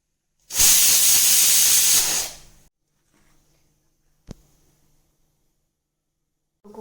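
A pressure cooker on the stove, cooking instant dudhpak, lets out one loud, sharp burst of hissing steam lasting about two seconds, then quiets to faint rattling with a brief click afterward.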